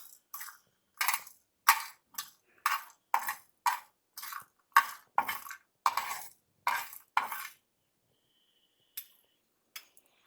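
Chicken bhuna masala frying in a pan, heard as a steady run of about a dozen crisp metallic clinks and scrapes, evenly spaced and close, then trailing off into a few faint ticks.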